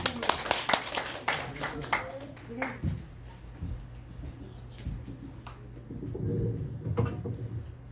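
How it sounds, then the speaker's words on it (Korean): A church audience claps to welcome a speaker, with quick, uneven claps starting loud and thinning out over several seconds, while a voice and a low hum continue underneath. "박수하시겠습니다."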